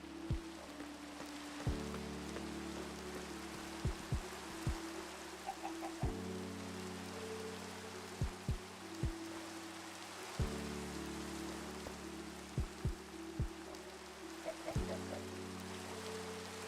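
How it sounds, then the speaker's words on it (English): Rain hisses softly and steadily on a Minecraft survival server, low in level beneath gentle in-game musical tones and scattered soft clicks, with no one speaking. "We get a lot of rain on this server."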